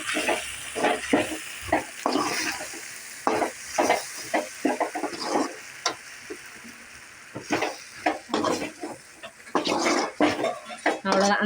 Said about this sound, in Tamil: எல்லாத்தையும் சேர்த்து நல்லா கலந்து விட்டுப்போம்